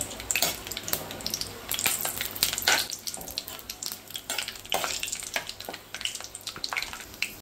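Whole spices, including cardamom and star anise, frying in hot oil in a pan, with a steady crackling sizzle broken by louder bursts of spattering and occasional stirring scrapes.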